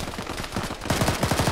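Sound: gunfire in a shooter video game

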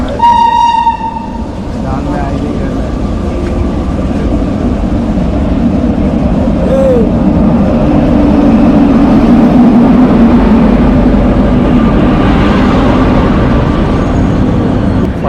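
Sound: Agniveena Express train arriving at Durgapur station platform

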